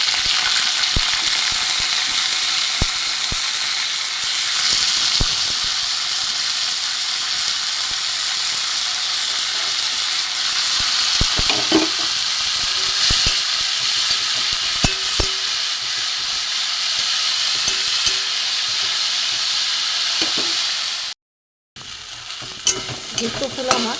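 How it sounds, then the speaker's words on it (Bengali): Jukto flowers frying in a little oil in a wok, a steady close sizzle with occasional stirring scrapes, running continuously for most of the time before a brief cut to silence. "এতে আমি যুক্ত ফুলগুলোকে ভেজে নেব প্রথমে।"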